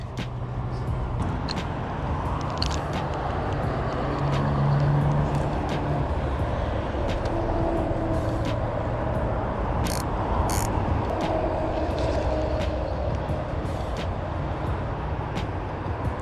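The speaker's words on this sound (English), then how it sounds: "Apologize if there's a lot of wind noise going on, and traffic as well from all the cars passing by." Cars pass continuously along a roadside beside a creek in Fayetteville, NC, a steady low rumble of traffic mixed with buffeting wind noise, fairly loud throughout with a few brief clicks.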